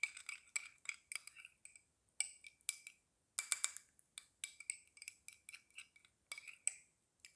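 A utensil clinks against a small dish while oily serum ingredients are mixed, producing quick, irregular metallic taps and stirring scrapes in short bursts, close and fairly quiet, with no talking.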